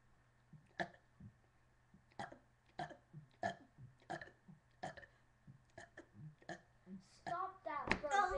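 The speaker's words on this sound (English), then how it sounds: "I just learned how to burp on command" A man burps on command, a long series of about a dozen short, evenly spaced belches that grow louder and rougher toward the end, close and alone with a low steady hum underneath.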